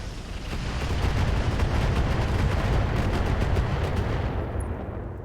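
Weapons fire at a Catapult mech in the RogueTech battle game: a dense, sustained roar of gunfire and explosive bursts, loud and continuous for several seconds before easing off, with no talking.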